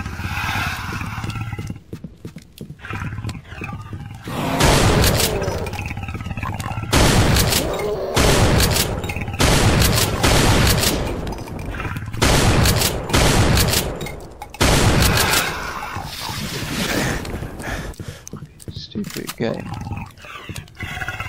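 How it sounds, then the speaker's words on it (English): Shotgun blasts in the first-person shooter Ultimate Doom, played with mods: a series of loud, booming shots spaced a few seconds apart, mixed with game monster roars and action noise. "I need more than this shotgun,"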